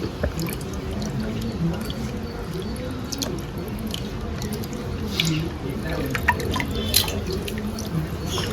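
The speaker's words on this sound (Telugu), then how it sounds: "పప్పుని ఇట్లా శుభ్రం చేసుకోవాలి తక్కువ నీళ్ళతో ఇట్లా పుట్టంతా పోయేటట్టు శుభ్రం చేసుకోవాలి" Urad dal lentils are rubbed and rinsed by hand in a little water, a close continuous sloshing and swishing with small drips and splashes throughout.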